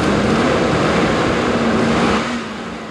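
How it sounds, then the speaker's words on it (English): A V8 car engine runs steadily with a loud, dense rumble and a constant low hum, close by, easing slightly toward the end. "That's the sound of a V8 engine."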